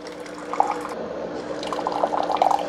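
A BUNN My Cafe MCU single-cup coffee maker brews hot water, giving a soft, close trickle with small bubbling drips and gurgles.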